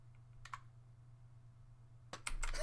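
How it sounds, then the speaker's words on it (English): Keys on a computer keyboard are pressed during a flash game, with a brief tap cluster early on and a louder burst of rapid clicks near the end over steady background hum. "I pushed this on the keyboard."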